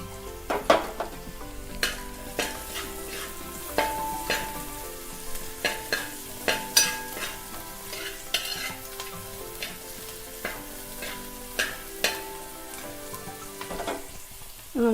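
Beans and vegetables stir-fried in a hot pan for egg fried vermicelli, a steady sizzle under repeated scraping and clacking stirs spaced every second or so, close and fairly loud throughout with no talking.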